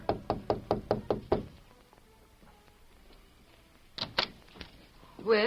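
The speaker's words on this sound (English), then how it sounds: "A few minutes later, they knocked at her door." Six quick, evenly spaced raps land on a hotel room door, followed by a pause, then two more knocks and a short burst of voice at the end.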